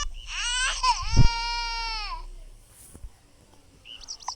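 A baby's high wailing cry rising and falling for about two seconds, close by, then fading into quiet with a faint short whimper at the end.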